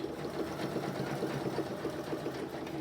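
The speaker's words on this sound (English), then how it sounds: "And then I'm going to just stitch up the side." A sewing machine stitches up the side of a cork chapstick holder, running with a fast, even mechanical whir and rapid needle chatter, close and steady throughout.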